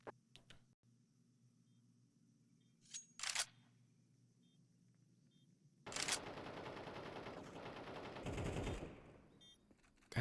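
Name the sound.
gunfire in a competitive video game match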